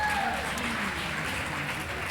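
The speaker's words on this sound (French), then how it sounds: "Vous pouvez l'applaudir, s'il vous plaît." Brief, quiet applause from an audience at a live event, a soft steady patter of clapping with a faint voice at the start.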